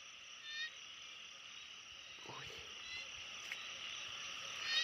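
A frog calls at night after rain in the Thai countryside, a faint croak heard in a dense steady chorus of insects, with a couple of brief knocks and rustles close by.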